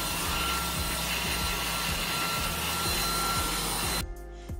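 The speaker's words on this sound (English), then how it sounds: "it's now time for us to vacuum the floor" A vacuum cleaner runs steadily and loudly across a bedroom floor, giving a dense, continuous whoosh for about four seconds before the motor cuts out and it goes quiet.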